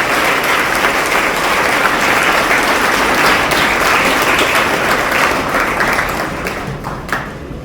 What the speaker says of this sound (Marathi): काका यांच्यासाठी एकदा जोरदार टाळ्या झाल्या पाहिजे